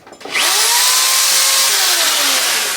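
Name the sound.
power drill drilling into a stripped quill stem bolt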